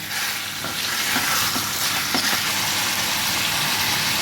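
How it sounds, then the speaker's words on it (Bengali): Chicken fries with ginger, garlic and onion in a loud, constant close sizzle, with a few faint stirring knocks and no talking. "এবার আমি চিকেনটা দিয়ে ভালোভাবে কষে নেব আদা রসুন আর পেঁয়াজের সঙ্গে।"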